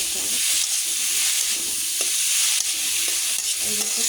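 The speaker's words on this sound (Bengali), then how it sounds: "এখানে আমি ঘি দিচ্ছি, কেউ চাইলে হচ্ছে কী বলে রেগুলার রান্না তেলও দিতে পারেন" Gourd and sugar cook in ghee in a pan for a sweet desi lau jorda, giving a loud, close, continuous sizzle with a dense hiss and occasional stirring scrapes.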